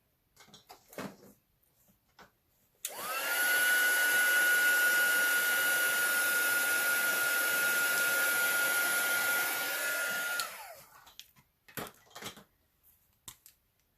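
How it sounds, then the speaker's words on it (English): A dryer blasts hot air over an alcohol ink painting of a farm barn, a loud, steady whooshing roar with a faint whine that runs about eight seconds alone before cutting off. "I'm going to give that a quick dry."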